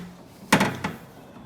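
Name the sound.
car door being unlocked and opened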